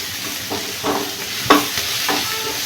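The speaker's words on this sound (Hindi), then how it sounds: "प्याज के साथ ही हम हल्दी डाल देंगे ताकि हल्दी पक जाए। तेल में हल्दी डालना अच्छा होता है" Chopped onions and turmeric fry in hot oil in a pan for a vegetable curry, a steady close sizzle with several soft stirring scrapes at regular intervals.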